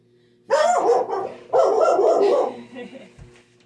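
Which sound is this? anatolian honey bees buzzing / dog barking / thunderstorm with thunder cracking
dog barking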